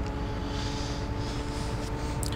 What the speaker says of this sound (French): quand vous entendez le son du moteur, il est assez particulier